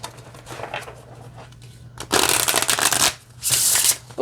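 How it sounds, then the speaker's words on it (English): El Camino Oracle cards are shuffled up close, starting with light fiddling, then two loud, dense riffling bursts separated by a short pause. "let's go ahead and give it a shuffle"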